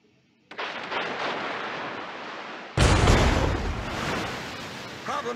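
Warship artillery fire in the video game World of Warships: a roaring, noisy blast opens, then a heavier booming salvo hits midway and rumbles on with a long, loud decay.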